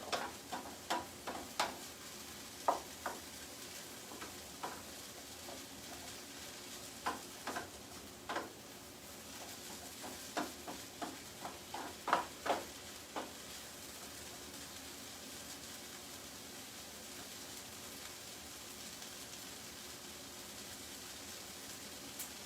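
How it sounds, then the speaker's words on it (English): Onions sauté in a pan with a faint, steady hiss of sizzling, broken by irregular utensil clicks and scrapes that come in clusters, then ease off toward the end. "we want to saute this until the onions are translucent"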